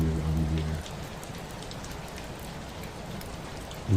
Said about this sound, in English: The rain on the old glass, steady and soft and continuous.